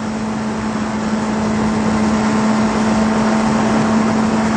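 A sport motorcycle with a GoPro mounted for a motovlog rides at speed, heard as a constant roar of wind and road noise with a steady droning engine tone underneath and no pauses.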